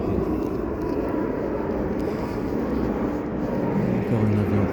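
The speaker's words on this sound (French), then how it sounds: "Encore un avion qui décolle." An airplane takes off, a steady, broad roar of jet engine noise holding at an even level throughout, with no voices over it.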